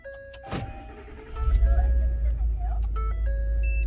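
A 12th-generation Ford F-150 engine starts after key coding: after about a second of quiet, a deep low rumble kicks in and settles into a steady idle, with people talking nearby.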